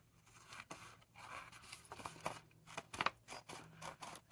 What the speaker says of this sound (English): Oh, these scissors stick.